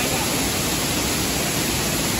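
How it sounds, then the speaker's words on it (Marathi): Rushing water pours down Powai waterfall in Mumbai just after rain, a loud, dense and unbroken roar of white noise close by, with no voices heard. "पाण्याचा फ्लो बघा, 5 मिनिटं पाऊस पडल्याबरोबर"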